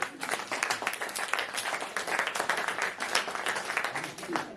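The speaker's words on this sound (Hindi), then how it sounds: "तालियां बजाते हैं आप सभी लोग" Audience applause at an all-India poetry gathering (kavi sammelan), a dense, steady wash of many hands clapping for several seconds with a faint voice underneath.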